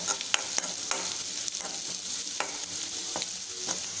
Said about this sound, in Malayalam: അതിൻ്റെ ഈ പൊടിയുടെ പച്ചമണം മാറുന്നിടം വരെ ഒന്ന് ഇളക്കി കൊടുക്കാം